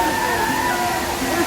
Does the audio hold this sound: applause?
no